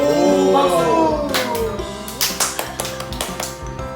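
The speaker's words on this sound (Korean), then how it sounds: "박수" Several quick hand claps near the close, sharp and close-up, following a moment of excited speech and sung tones at home with a Shiba Inu dog.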